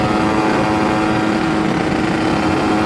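A carburetted motorcycle engine runs steadily at idle right after its carburetor has been tuned, a continuous close, loud rumble with an even low throb and no pauses.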